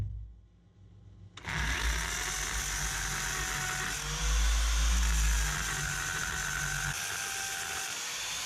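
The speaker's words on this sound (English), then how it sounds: "This way I know if I drill to the blue tape, I've drilled deep enough into the masonry" Drill boring into basement masonry during a window replacement, a steady grinding whir that starts abruptly and runs continuously with a deeper surge midway.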